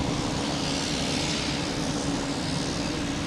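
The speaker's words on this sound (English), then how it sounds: "Next to arrive will be a JetBlue coming from Fort Myers, an A220, an actual 220." A JetBlue Airbus A220 arriving at Boston Logan, producing a steady, fairly loud engine drone with a dense rumbling texture and no talk.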